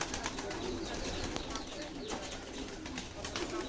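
Racing pigeons cooing softly in a loft, faint low coos rising intermittently over a steady background hiss.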